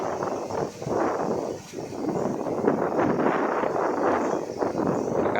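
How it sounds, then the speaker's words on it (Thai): Strong wind gusting steadily outdoors beside the Chao Phraya River at Bang Sai, a continuous loud rushing roar buffeting the microphone with brief dips, with no voices. "นี่ครับลมแรงครับวันนี้ลมแรงครับ"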